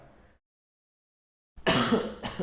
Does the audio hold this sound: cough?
yes